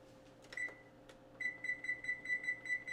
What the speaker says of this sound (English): Oh, timer.